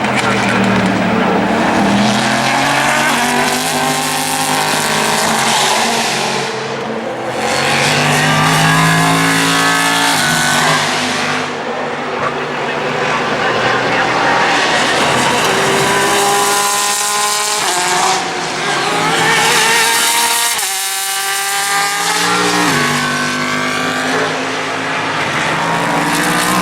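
IMSA race cars at the Rolex 24 at Daytona roar past in waves, engines revving and shifting through gears, loud and close, with wind-like broadband noise between passes.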